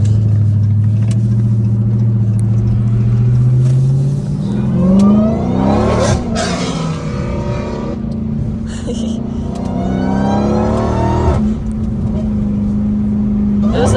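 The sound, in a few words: Dodge Hellcat Redeye engine revving with supercharger whine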